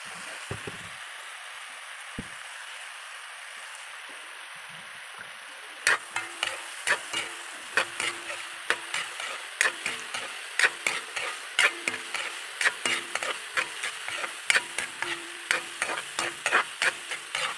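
Stir-frying ingredients for pancit in a pan: after a few quiet seconds, a spatula knocks and scrapes in a brisk, regular rhythm over a continuous close sizzle, with no talking.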